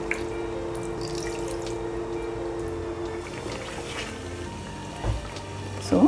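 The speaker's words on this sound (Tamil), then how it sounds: "கொஞ்சம் தண்ணி ஆட் பண்ணிக்கிறேன்." Water poured into a pot of Bihari-style chicken curry with ground masala paste, a continuous trickling pour under low background hum, ending with a couple of small splashes and clinks.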